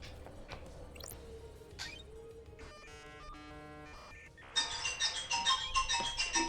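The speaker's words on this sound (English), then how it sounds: "Oh, that's my ringtone for my phone. Somebody's calling me." A phone ringtone from an incoming call cuts in during a Paradise Killer game stream: bright, loud melodic electronic tones that start partway through, over softer in-game chimes and effects.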